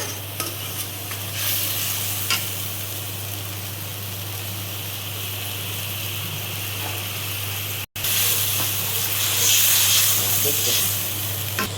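Poppy seed paste frying and being stirred in a pan, a loud, continuous close sizzle with a steady low hum and scraping stirs, briefly cut off before resuming.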